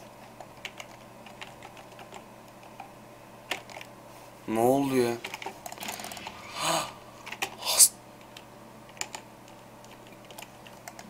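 Computer keyboard clicks and taps scattered across the stretch, with a burst of rapid repeated key noise around the middle while a person speaks briefly; the keyboard has a stuck R key.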